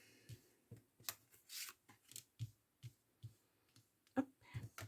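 Tarot cards being shuffled by hand for a nine-card spread, a soft, close series of riffling and flicking bursts in an irregular rhythm, quiet in an otherwise still room with no talking.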